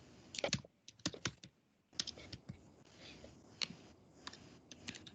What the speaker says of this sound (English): I'm just typing that out right now to throw into the group chat